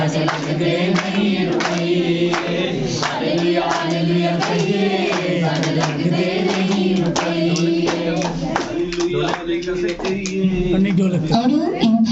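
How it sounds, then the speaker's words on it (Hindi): A church congregation at a ninth-anniversary healing service claps hands in a steady rhythm beneath singing voices, the claps sharp and regular throughout. "ताली बजाओगे"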